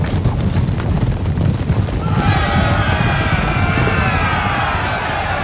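Cavalry charge in Empire: Total War with around a hundred mounted troops, a dense roaring rumble of hooves and battle noise that stays loud throughout, with a shrill whinny-like cry rising over it midway.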